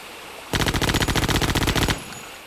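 An M249 machine gun on secondary fire in the shooter Hellforces rattles off one continuous, loud burst of about twenty fast, evenly spaced shots lasting around a second and a half, then cuts off cleanly to quiet.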